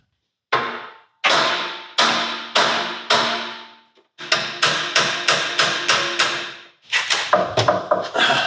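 Sharp metallic bangs ring out in irregular runs as a damaged part is hammered and pried off a diesel Jeep Wrangler fender, loud close strikes each decaying quickly, with short pauses between bursts.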